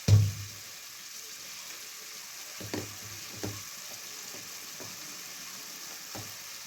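Mutton frying in a pan for sambar: a soft, steady sizzle with a few faint stirring scrapes, beginning with a brief louder knock.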